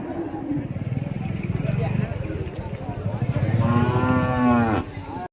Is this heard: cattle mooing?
yes